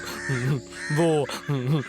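A crow caws three times in quick succession, harsh and fairly close, with short pauses between the calls.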